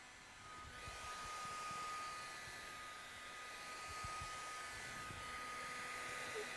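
A heat gun blows hot air onto car wrap vinyl, a steady faint hiss and whir that starts after a brief quiet moment and holds continuously, with soft handling thumps beneath.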